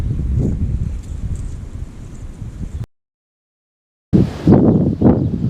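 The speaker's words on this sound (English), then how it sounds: "Wind's getting back up again" Wind gusts across a fishing lake margin on a January day, rumbling in the microphone as a low roar, broken by a short silent gap before picking up again more strongly.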